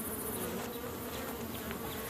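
A dense, continuous buzzing of many bees, steady and loud, filling the air with no voices.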